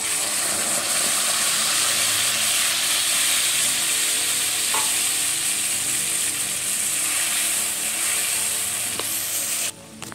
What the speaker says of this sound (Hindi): देखिए इधर मसाला भी भून रहा है अच्छे से और इधर हमारे बड़े भी हो रहे हैं